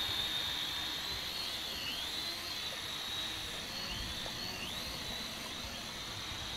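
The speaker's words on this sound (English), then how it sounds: "Then your drone is up and away." A DEERC D60 drone flying over a lake, its propellers producing a steady high-pitched buzzing whine that rises and dips slightly as it moves, fairly faint and continuous with no talking.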